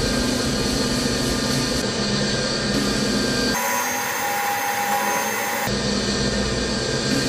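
A gem grinding machine faceting a stone set at a 90-degree angle, a loud continuous whining drone that shifts pitch and texture partway through as the stone is pressed against the wheel, with no talking.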